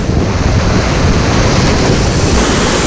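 Strong 30-knot wind at the sea roars across the microphone, mixed with crashing surf in a loud, constant broadband rush that never lets up.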